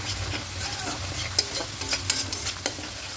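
Ground chili, turmeric, cumin and coriander powders are stirred in hot oil in a pan for a tilapia yogurt curry, giving a soft sizzle with light scraping stir strokes and a few small clinks.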